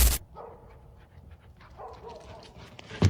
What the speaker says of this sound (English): they suddenly started barking at what seemed like nothing